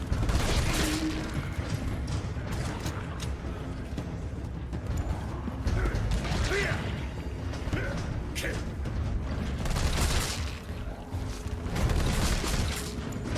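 Continuous combat noise from Resident Evil 3 Remake fills the stretch, gunshots mixed with booms and mechanical clatter in a dense, loud, unbroken wash of game sound.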